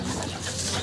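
A brief, soft racing pigeon coo, close by, lasting under a second.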